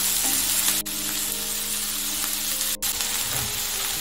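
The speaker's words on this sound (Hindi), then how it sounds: "थोड़ा सॉटे कर लेंगे अनियन को। इसमें अब हम डालेंगे अदरक, लहसुन और कसूरी मेथी।" Onion sautéing with ginger, garlic and kasuri methi for chicken tawa rolls gives a loud, continuous sizzle up close, broken by two brief dips, with no talking.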